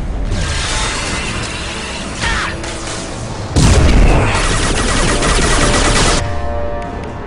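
Gunfire and heavy booming impacts in the video game Mass Effect 2, aboard the Collectors ship, loud and sustained with a sharp burst of blasts midway over a constant dense battle din.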